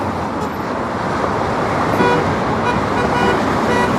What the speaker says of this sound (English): I don't even know who the hell's honking.